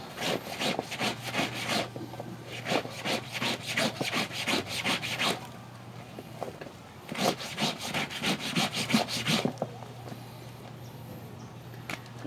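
Laundry gets scrubbed by hand with a brush along the seams, producing rapid rhythmic rasping strokes in two long bursts separated by a quieter pause, close and fairly loud, with no talking.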